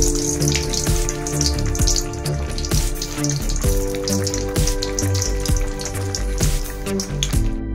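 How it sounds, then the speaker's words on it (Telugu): Mustard seeds and cumin tempering in hot oil for a tomato chutney give a steady, close sizzle with crisp crackles throughout, over a tonal background. "ఆయిల్ కొంచెం వేడయ్యాక దాంట్లోకి ఆవాలు జీలకర్ర వేసుకోవాలి"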